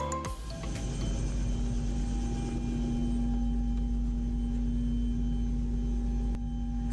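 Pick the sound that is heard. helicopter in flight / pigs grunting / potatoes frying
helicopter in flight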